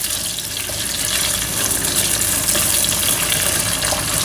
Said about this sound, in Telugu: ఇప్పుడు ఈ ఉల్లిపాయ వేసేస్తున్నాను. ఉల్లిపాయ కొంచెం ఫ్రై అవ్వాలి